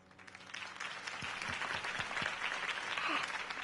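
A crowd applauding Harvey Dent's campaign speech in the Batman Telltale video game, dense steady clapping that swells from a quieter start and holds, with a faint low voice briefly underneath.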